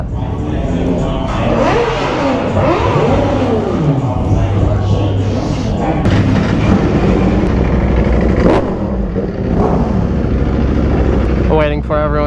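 Motorcycles rumbling and revving at a bike meet, including an upgraded Ducati V4R, a loud continuous engine roar with rising and falling throttle sweeps and passing bikes, with voices talking over it.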